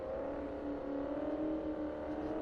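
A Ford Mustang in a racing video game holds a continuous, even engine drone at a near-steady pitch, loud and alone throughout.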